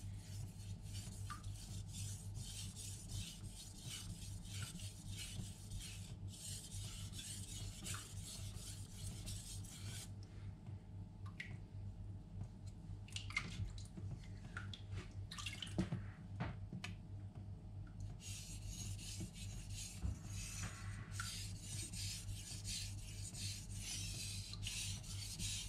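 Knife strokes on a Naniwa Aotoshi whetstone, a green sharpening stone, rasping steadily and quietly through the clip, close by with a faint background hum and no talk.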